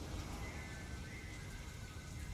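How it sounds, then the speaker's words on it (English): Steady rain in the video game Crysis 3, a dense even hiss of drops at moderate level with a faint tonal hum running beneath, no talk. "there's a lot of rain going on right now and all that atmospherical beauty"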